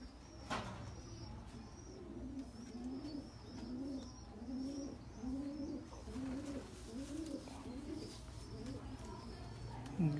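A breeder's fancy pigeon coos softly in a repeated rhythmic series of low, throaty calls, fairly close but quiet, with faint background noise and no speech.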